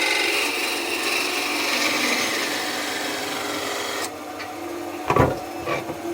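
Parting tool cutting into construction pine spinning on a wood lathe, a close continuous scraping rasp that stops partway through, followed by a few soft knocks and light handling sounds.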